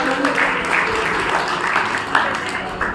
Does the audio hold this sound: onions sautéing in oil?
no